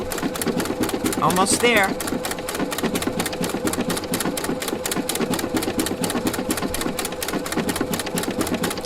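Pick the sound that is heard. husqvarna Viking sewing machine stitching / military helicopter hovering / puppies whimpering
husqvarna Viking sewing machine stitching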